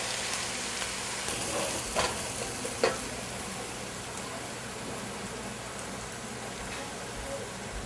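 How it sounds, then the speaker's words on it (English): Onions frying in oil in a pan for chicken dum biryani, a steady crackling sizzle with a few scraping stirs, close and continuous. "you need to constantly stir the onion or it will burn"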